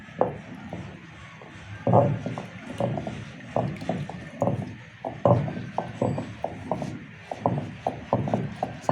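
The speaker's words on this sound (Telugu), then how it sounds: "ఇప్పుడు రుబ్బుకున్నాను రోట్లే రుబ్బుకుందాం" Dosa batter being ground by hand in a stone grinder, giving a rhythmic run of close, knocking and grinding strokes with rough mechanical scraping that keeps on throughout at moderate level, with no talking.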